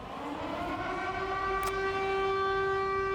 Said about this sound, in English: here are the sirens